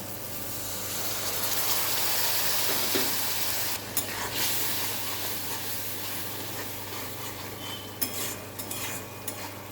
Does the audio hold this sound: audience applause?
no